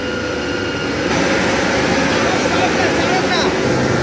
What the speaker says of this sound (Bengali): এটা বিশাল একটা গিয়ার বক্স দেখেন গিয়ারগুলো চলছে